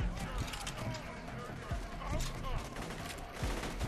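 Rapid bursts of gunfire in the video game Borderlands 2, with repeated sharp shots and volleys cracking through a busy in-game soundscape, loud and close throughout.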